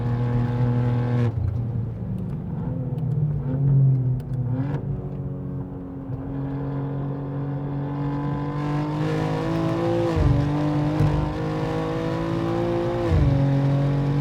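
A 711 hp BMW G87 M2 Clubsport climbing uphill in fifth gear on the Nordschleife, heard from inside the cabin as a loud, sustained engine drone with rising pitch sweeps and brief stutters from traction control, without talk.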